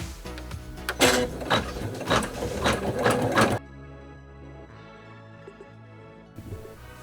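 Embroidery machine running a placement stitch outline for pumpkin appliqués on a pumpkin mouse snap tab, a loud dense mechanical whirring burst that cuts to a quieter low machine hum after a few seconds, with no talk.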